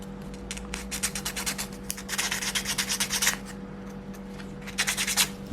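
Sandpaper rubbing against the central piece of a wooden Dilophosaurus skull 3D model kit, in quick rhythmic bursts of close scratchy strokes separated by short pauses, with no talk.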